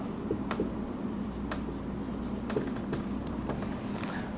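Chalk or marker writing English examples on a classroom board, a steady scratchy texture with sharp tapping strokes spaced through the clip, close and continuous without talk.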